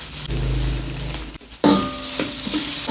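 Ginger, onion and garlic sautéing in hot oil in a pan, a loud continuous sizzle with a brief pause midway, then a sharper burst of frying and a few clinks of a utensil against the pan.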